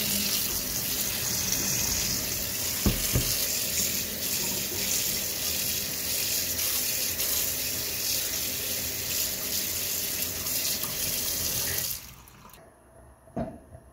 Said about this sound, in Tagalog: hugasan lang natin para matanggal yung alat